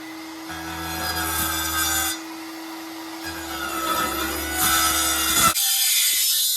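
A Skil circular saw cuts a wooden board for a campervan sink counter in two loud bursts with a pause between them, followed by a harsh whine as the motor winds down, and no voices.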